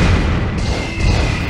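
Explosions from the video game War Commander form a short, dense, loud rumble of overlapping booms with no talk.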